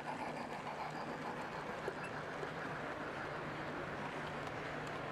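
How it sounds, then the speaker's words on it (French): O scale model trains run on a club layout with a short tunnel, a viaduct and a bridge, giving a steady, continuous rolling rumble with faint rail clatter and no talking. "ce côté pleine voie où les trains s'engagent sous un court tunnel, puis sur un viaduc et sous un pont"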